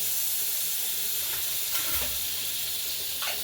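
Butter sizzles on a hot tawa, a soft steady hiss with faint crackle close by, continuous and quiet with no talking.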